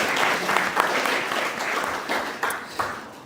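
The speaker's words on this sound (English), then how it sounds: "let's please give a round of applause" A conference room full of people applauding a panel discussion, steady dense clapping that gradually thins and fades toward the end.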